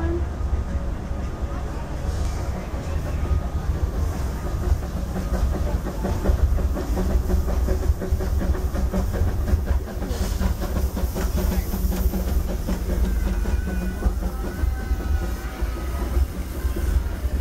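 The Disneyland Railroad's Fred Gurley #3 steam locomotive chugs along with a steady hiss of steam and rhythmic clickety-clack from the rail cars, under an amplified narration voice.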